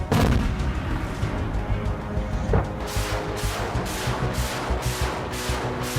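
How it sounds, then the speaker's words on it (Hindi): Artillery and heavy weapons fire in the Russia–Ukraine war in a rapid series of loud, booming blasts, repeating in a rough rhythm over a constant rumbling background. "गोलाबारी और तोप की आवाज, बारूद, भीषण हथियारों की आवाज सुनाई दे रही है।"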